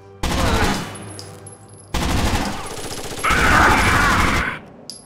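Blind-fire gunfire in the Rainbow Six Vegas video game, with loud, dense automatic bursts in two long volleys, the second swelling heavier near the end before cutting off.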